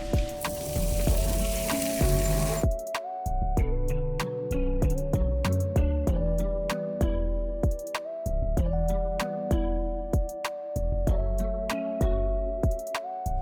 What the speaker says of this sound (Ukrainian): Наливаємо в сковорідку гарну кількість олію, одразу підготувала паперовий рушничок, буду туди викладати, і викладаємо чебуреки.